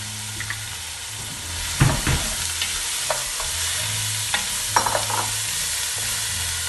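Meat sizzles steadily in oil in a pan for a ragu, a constant frying hiss with several sharper scrapes and clacks of stirring close up, and no voices.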